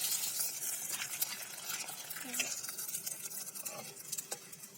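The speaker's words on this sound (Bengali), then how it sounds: "তেল গরম হয়ে গেছে এখন আমরা পাঁপড়গুলো ভেজে নেব" Sago papads fry in hot oil. A quiet, crackling sizzle comes with soft stirring and scraping sounds, continuous and close, with small popping bursts.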